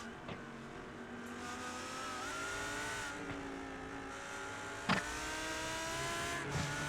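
GT race cars drive through the chicane at Oulton Park, engines droning steadily at a distance with shifting pitch as they brake and accelerate, with a few sharp knocks along the way.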